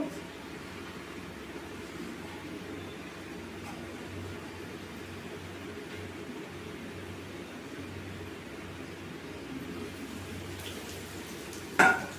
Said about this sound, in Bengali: পাল্টে ভেজে নেবো ভালো করে